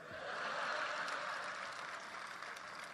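An audience at a Hindi comedy poetry show applauds in a steady, even wash of clapping that holds at moderate loudness for the whole stretch, with no voices over it.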